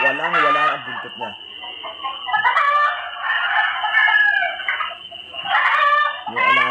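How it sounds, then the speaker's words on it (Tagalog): Chicken crying out with loud, repeated, strained squawks and clucking calls in rapid bursts that fill most of the moment, sounding close and agitated. "Mas dami marinig din inyak ng manok."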